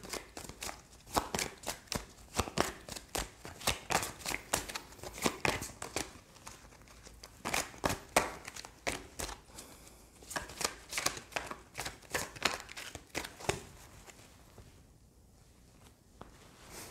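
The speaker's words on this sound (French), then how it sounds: "on va tirer d'autres cartes." Tarot cards being shuffled and drawn, giving a run of crisp, rapid riffling and slapping bursts close by, easing into softer handling of the cards near the end, with no talking.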